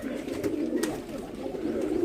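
A long-legged show pigeon coos softly nearby, a low throaty warble rolling in two short bursts over faint room noise, with no voices.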